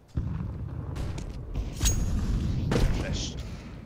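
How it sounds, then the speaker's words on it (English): A grenade goes off in a Counter-Strike: Global Offensive competitive match, with two sharp booms about a second apart over steady game noise and ongoing chatter. "Grenade out"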